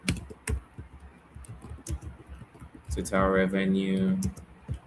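Keys clatter on a computer keyboard as text is entered into a text box, with quick, close keystrokes running under a voice that talks over part of the typing.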